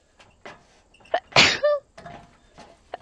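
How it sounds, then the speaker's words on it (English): A single loud sneeze close to the microphone, preceded by a few quick sharp inhales and followed by softer breathy sounds. "I have to sneeze"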